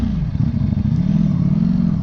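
A motorcycle engine revs hard through a loud aftermarket, non-stock exhaust, giving a close, throaty, pulsing drone that rises and wavers across the clip, with no speech.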